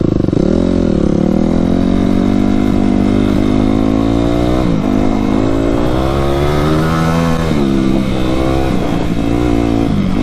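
A Yamaha YZ250F four-stroke dirt bike engine drones loud and close throughout, its pitch rising and falling steadily as the rider works the throttle, with no talk over it.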